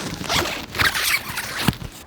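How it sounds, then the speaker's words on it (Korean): An inner zipper on the urethane window of The Bunker inflatable air tent shelter is pulled in several quick, raspy strokes, close up and alone, with a firmer tug near the end. "있는 지퍼를 이용해서"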